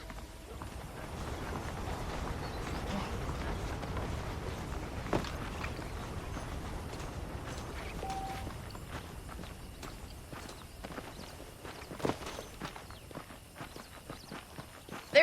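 Saddled horses' hooves clip-clop steadily on the ground in the Western video game Red Dead Redemption, a continuous moderate walking rhythm over ambient background, with occasional sharper knocks.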